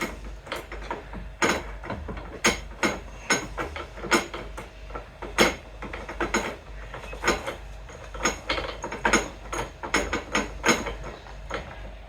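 Roof bar fittings being tightened down on a Toyota Auris produce a close series of sharp metallic clicks and knocks, irregular but steady, with no talking.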